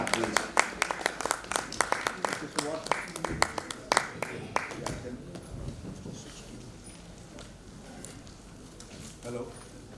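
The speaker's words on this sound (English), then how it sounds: "So big round of applause for all the panel speakers and Professor Prabhat Ranjan." An audience at a panel discussion gives a round of applause, with sharp, fairly close hand claps for several seconds that thin out and fade, and a few scattered claps near the end.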